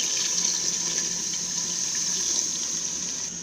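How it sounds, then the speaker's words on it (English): Water poured steadily into a stew pot of palm oil vegetable stew with tinned tomatoes, a continuous close splashing hiss running evenly throughout with no talk. "I'm going to add some water."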